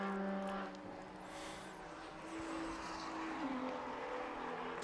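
A BMW 135i race car on the Knockhill circuit passes with a rising and fading engine drone, heard at a middle distance against steady trackside background noise.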